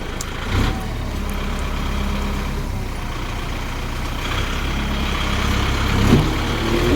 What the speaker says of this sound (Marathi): ट्रॅक्टरनं शेण गोळा करायचं चालले तिथं.